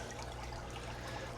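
Water pours softly into a garden planting spot, a faint continuous trickle heard alone and quietly for a brief moment.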